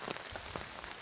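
Rain pattering on a Snugpak 10×10 tarp on a July afternoon: close, dense, steady drumming with soft periodic heavier drips, alone with no talk.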